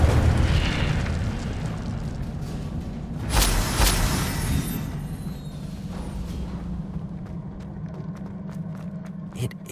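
A fire spell cast in Hogwarts Legacy bursts with a loud whooshing blast that flares and crackles for about a second, then fades into lingering rumble and game ambience, following earlier busy combat noise.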